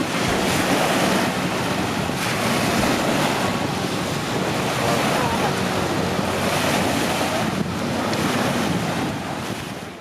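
Sea waves wash onto the beach at Camyuva, Kemer, Turkey, a constant loud roar of surf mixed with heavy wind buffeting the microphone throughout.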